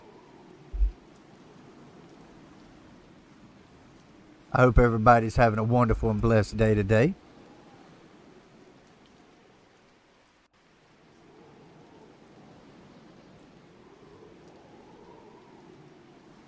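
Steady, faint rainfall from the Pirates of Pangea video game runs as a soft hiss through the whole stretch, with someone talking over it for a couple of seconds midway.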